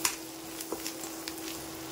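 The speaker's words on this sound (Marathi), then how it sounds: "आता पूर्ण असं हलवून घेऊया आपण" A spoon stirs a semolina and potato snack mixture with spices and curry leaves in a hot pan, giving faint scraping strokes over a soft, steady sizzle, with no talking.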